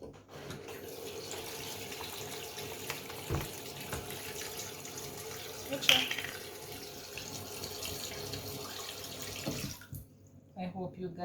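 Tap water running over cut-up chicken being washed in a kitchen sink; a steady close hiss of flowing water with occasional clunks and splashes, stopping near the end, with no talking over it.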